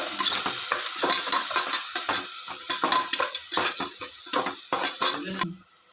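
Mutton with salt and turmeric is stirred in a pan, a close run of rhythmic scraping and clattering strokes over a bright sizzle that stops abruptly near the end.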